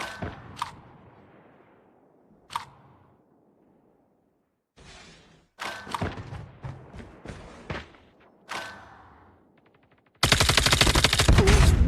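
Gunfire in a tactical shooter game: sharp isolated shots and short bursts separated by quiet gaps, ending in a loud sustained stretch of rapid automatic fire.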